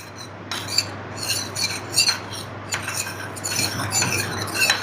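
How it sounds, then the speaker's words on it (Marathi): A spoon stirs a custard powder mixture from the bottom of a vessel, giving close, repeated scraping and clinking strokes against the container in an uneven rhythm over a low steady background hum. "कस्टर्ड पावडरचं मिश्रण तयार करून ठेवलेलं आहे ते सुद्धा परत एकदा असं हे बुडापासून ढवळून घ्यायचं आहे"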